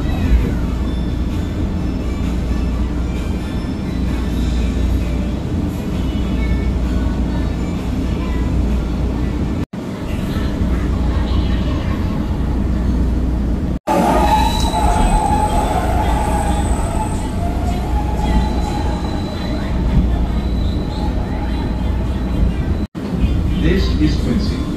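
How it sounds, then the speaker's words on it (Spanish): Chicago 'L' elevated trains roll along the Loop with a loud, continuous low rumble of wheels on track, rising into higher screeching toward the end, while a voice talks over the passing cars. "es muy bonito pues ver los trenes pasar, cómo entran, cómo salen del loop"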